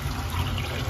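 Water drains from a water heater boiler in a steady, close rushing flow that holds an even level throughout, with no voices.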